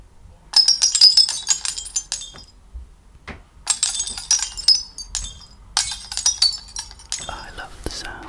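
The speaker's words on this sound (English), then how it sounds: "I love the sound of breaking glass." Glass breaks in an ASMR recording: crisp, close bursts of shattering and tinkling shards come in several separate waves, with quiet pauses between them.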